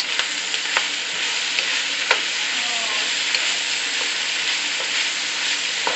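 Beef pepper stir fry with onion leaves sizzling steadily in a hot pan, a dense, even crackle with a few faint clinks of a utensil and no talk.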